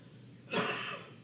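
A single sneeze bursts out in a classroom during a maths lesson, fairly faint and distant, lasting about half a second against a quiet room.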